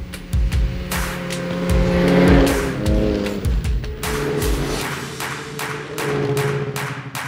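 A snowmobile engine revs and surges while riding groomed snow trails in Langlade County, loud and near, rising and falling in pitch with repeated throttle bursts and no talking.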